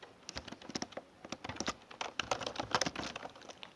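Quick, irregular key clicks on a computer keyboard as a name is typed, close and fairly quiet, in short bursts with tiny pauses between strokes.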